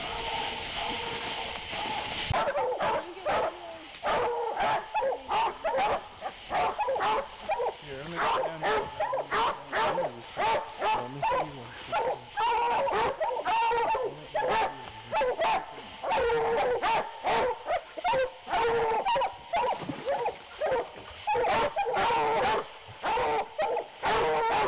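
Several coon hunting dogs bark repeatedly at a tree during a youth hunt on Dayton Mountain, a steady stream of overlapping barks and yips with people talking at times.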